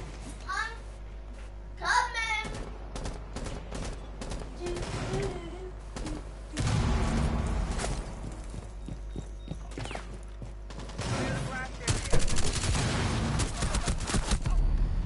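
Gunfire in Rainbow Six Siege, bursts of automatic shots and rapid fusillades mixed among several players talking over voice chat, growing denser and louder toward the end.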